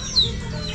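A chicken makes a short, sharp cluck that sits over a low background hum, brief and fairly close.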